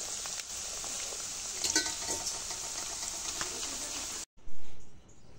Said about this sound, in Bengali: এইভাবে আমি সব চিড়াগুলো ভেজে নেব।